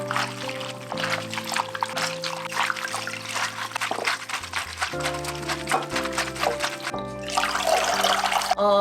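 Water sloshing and trickling as soaked miyeok seaweed is rinsed by hand, steady and close, over soft background music.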